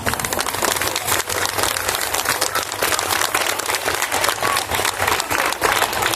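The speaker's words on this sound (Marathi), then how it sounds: "जागृत करणाऱ्या टाळ्या कशा माहित आहे का?" A large audience claps loudly and energetically in a dense, continuous burst of applause that fills the room, with a faint murmur of the crowd underneath.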